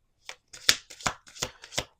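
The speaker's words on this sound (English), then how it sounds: "All right, one more shuffle." A tarot card deck being shuffled by hand, quiet and close, with about five short papery riffles and slaps in quick succession and no talking.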